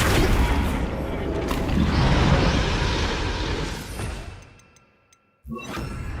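Spell blasts from the Confringo fire spell in the video game Hogwarts Legacy, a loud rumbling burst of booms and crackle that fades to near silence before another hit starts.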